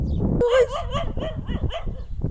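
Dogs barking at a creature that stands its ground during a tense standoff outdoors, with a few yelping, whimpering barks rising over noisy background rumble and faint voices.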